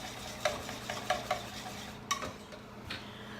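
A cheese soufflé sauce cooking in a pan, with a soft low simmer under light scraping and a few small clinks of a utensil against the pan, quiet and close with no talking.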